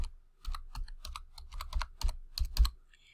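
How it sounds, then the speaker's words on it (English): Quick, close keystrokes on a computer keyboard as a username is entered, about fifteen irregular taps in short bursts, alone without talk. "So let's just type in my username,"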